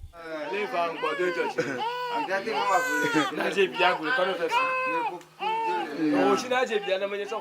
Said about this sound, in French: avec en toile de fond les cris d'un bébé